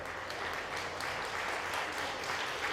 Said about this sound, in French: C'est pour toi qu'ils applaudissent